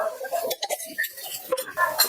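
A metal spoon scoops gram flour onto bitter gourd in a bowl, giving several light clinks and scrapes spread across the moment, close and fairly quiet, with no talking.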